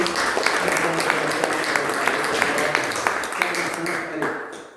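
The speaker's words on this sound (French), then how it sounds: "on applaudit donc notre" Audience applause for an invited guest speaker at a talk about the pine processionary caterpillar, dense steady clapping with a few sharper claps standing out, fading toward the end.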